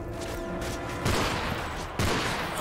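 Gunfire rings out during a Spec Ops mission in the Call of Duty Modern Warfare 3 video game. Two sharp, loud bursts cut in over a low, humming game backdrop.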